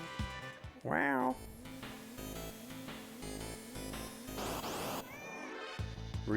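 A cat meows repeatedly, several drawn-out, rising and falling cries close by, with quieter background sounds between them.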